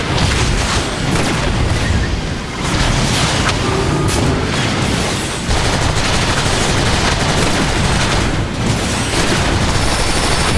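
Heavy gunfire and explosions in the video game Transformers War for Cybertron, a dense loud barrage of rapid shots and booms that runs without a break, no talk.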